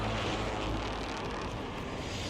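An enemy drone overhead in a Warzone Resurgence match, heard as a continuous dense engine-like whir and wash of noise that stays loud and even for the whole moment, with no talking.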